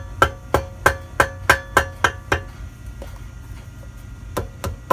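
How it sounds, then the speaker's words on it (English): Gentle hammer taps on a gasket being cut by hand, about eight evenly spaced sharp knocks in a steady rhythm, then a pause and a few softer scattered taps, close and clear with no talk. "Gentle taps are all you need."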